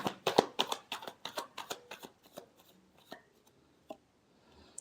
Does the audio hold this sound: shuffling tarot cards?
yes